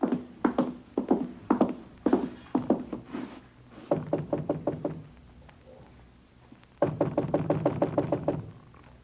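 Knocking on an apartment door in a radio drama, delivered as several loud bursts of rapid, close raps separated by short pauses, with no talking over it.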